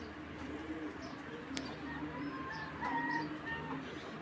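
Racing pigeons coo and murmur together in a loft, a steady dense chorus of soft, low throaty calls with a few faint higher chirps, close and continuous with no speech.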